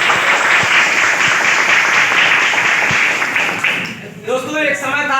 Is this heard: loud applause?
yes